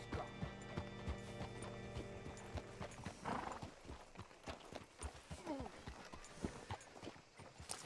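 Horse hooves clopping with a whinny from a horse in the video game Red Dead Redemption 2; a held musical tone opens, then irregular hoof beats and a rising neigh come in close, with light voices in the background.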